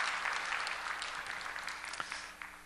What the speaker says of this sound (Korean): 우리 박수로 우리 축복하겠습니다.